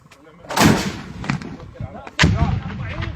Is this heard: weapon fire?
yes